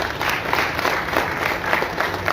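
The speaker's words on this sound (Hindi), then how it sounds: "जोरदार तालियां" Loud, dense applause from a crowd gathered for the Ambedkar Way street naming at 61st Street and Broadway in Woodside, New York, steady and close throughout the short stretch.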